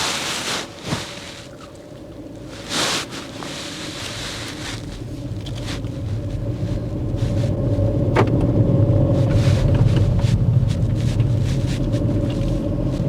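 A car pulls away during a mock driving test; its engine rumble starts low and swells into a steady, loud drone as it gathers speed, with no talking.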